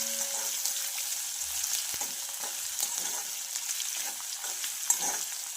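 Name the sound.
frying ginger, green chili and garlic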